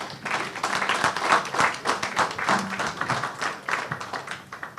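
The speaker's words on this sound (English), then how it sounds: "therefore I invite you to applaud the effort" An audience at an ICT seminar ceremony claps in a sustained round of applause, dense and fairly close, rising and falling slightly over several seconds without speech.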